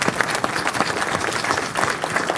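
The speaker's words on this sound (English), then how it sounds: "round of applause, great job" An audience at a Future Energy Boston feedback forum gives a round of applause; brief, dense and steady clapping from many hands, moderately loud and close, with no clear talk over it.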